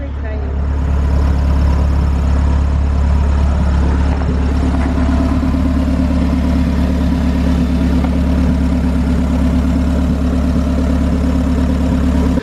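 A big-turbo Honda car engine runs steadily on a dyno, a loud, constant low rumble holding at an even pitch for the whole stretch.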